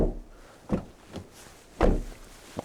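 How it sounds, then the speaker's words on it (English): A Mazda 2 Hybrid car door being opened, a few distinct dull clunks and latch thuds spaced apart over a quiet background, close and fairly crisp. "when you open the door, for instance, let's listen to that sound"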